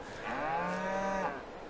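A single long, deep moo from a cow in Farming Simulator 22 rises and holds, then fades, clear and fairly close above low ambient background.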